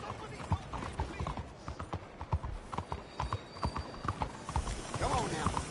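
Horse hooves galloping in Red Dead Redemption 2, with rapid, uneven clip-clop beats running steadily under a voice talking to the horse.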